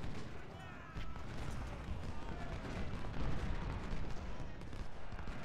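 Artillery and musket fire roll through an Ultimate General: Civil War battle in continuous rumbling booms and crackling volleys, dense and moderately distant, with a voice talking over the din.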